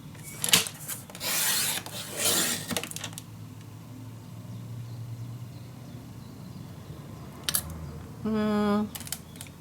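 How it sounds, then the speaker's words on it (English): Paper from 8x8 paper packs is cut for a mini album, heard as several short, close, rasping cutting strokes in bursts separated by quieter pauses, with a brief tonal sound near the end. "let's just cut some papers. First the outside."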